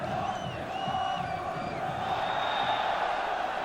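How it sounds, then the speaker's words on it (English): Manchester United away fans chant and sing at Montpellier during a 1991 Cup Winners' Cup quarter-final, a steady, distant crowd drone filling an otherwise quiet stadium, without commentary over it. "the only people you can hear now are the Manchester United fans"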